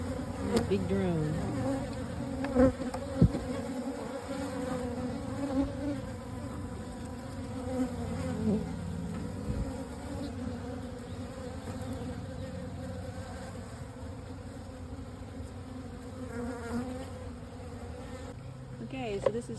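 Honey bees, including a large drone, buzz continuously around a beehive, a dense close hum with individual insects swelling and fading as they pass near.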